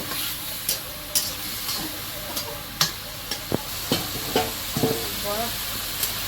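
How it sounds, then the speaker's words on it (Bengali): Potatoes frying in a pan with turmeric, coriander and cumin, a steady sizzle broken by a series of sharp scraping stirs and clinks, close by, with no talk. "এইবারে আলুটাকে ভালো করে ভেজে নেবো"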